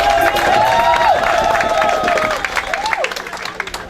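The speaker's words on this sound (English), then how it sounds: "you can also give an applause" Audience applause at a gathering, a steady patter of clapping from a crowd that thins out toward the end, with a voice speaking over it.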